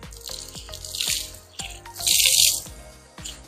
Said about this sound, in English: First, wring out the chamois.